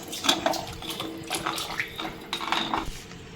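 Water being poured into a cooking pot for mint rice (pudina pulao), a short close splash mixed with metallic clinks of the pot and utensils, no talking.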